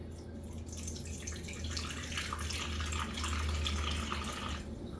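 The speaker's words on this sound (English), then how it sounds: "equal amount of water, so 122 grams of warm water" Warm water poured into a sourdough starter, a steady splashing hiss that runs for about four and a half seconds, close and fairly quiet, with no talking.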